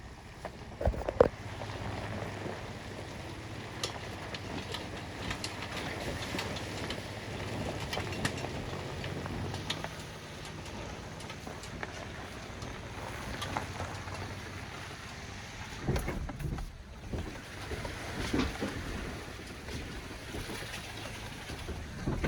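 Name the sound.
truck driving through a creek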